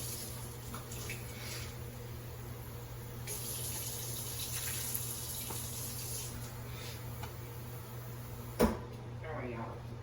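Water runs steadily from a tap, filling a cup for cooking frozen green beans in a Southern maple bacon recipe, a soft continuous pour with a brief clunk near the end.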